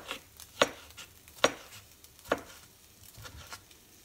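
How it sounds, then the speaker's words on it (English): A knife chops tomatoes into small pieces on a board: three crisp, evenly spaced strikes, followed by a couple of softer taps, close and clear. "cut in small pieces, easy to cook"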